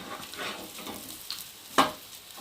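Chopped leaves fry on a tawa with a faint, hissing sizzle and soft stirring strokes, capped by one sharp clack of a utensil against the pan, quiet and close with no voices.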